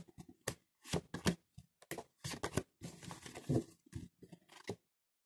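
Tarot cards shuffled and handled for a three-card draw, close and crisp: bursts of papery riffling, crinkling and sharp flicks in irregular clusters, followed by a brief silence at the end.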